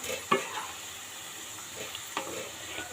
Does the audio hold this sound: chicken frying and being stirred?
yes